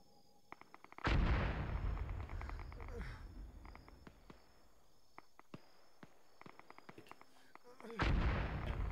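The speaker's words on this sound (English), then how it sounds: "Mortar, are you making explosions?" HE mortar rounds burst in a military video game: two heavy blasts roughly seven seconds apart, each rumbling off, with faint clicks and distant pops in between.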